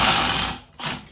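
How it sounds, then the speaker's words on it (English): Kobalt cordless drill driving a 2.5-inch screw with a number 2 square driver bit, a short loud burst of motor whir and ratcheting that cuts out briefly, then resumes for a moment before stopping. "try that out with the Kobalt"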